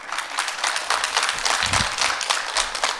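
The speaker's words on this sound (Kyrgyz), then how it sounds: "Кол чабуулар болсун." An audience at a televised quiz contest claps in a moderate, uneven patter of many hands, with a faint low voice briefly underneath.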